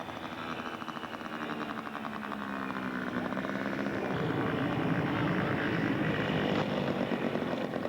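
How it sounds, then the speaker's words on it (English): A scale model Corsair flies at a sod farm in Hubbard, Oregon, during a scale aircraft show, its propeller engine droning steadily and growing louder as it nears, with no talking. "Gregor's flying his Corsair."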